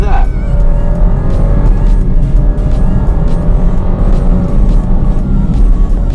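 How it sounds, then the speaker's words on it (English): Alfa Romeo Stelvio SUV with a 2-liter four-cylinder turbo engine, loud and close, a strong sustained engine roar with a sharp rev at the start, then continuous drive noise at full volume. "all that noise coming from a 2-liter engine"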